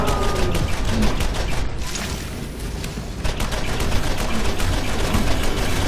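Shotgun fire in the first-person shooter game Borderlands, a loud, dense barrage of blasts and impacts packed tightly together over the whole stretch with no pauses.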